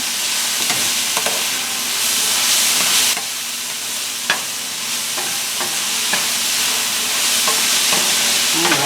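Potatoes and vegetables for homemade fries crackle and sizzle in a pan, a loud, steady frying hiss broken by occasional utensil clicks, with no talking.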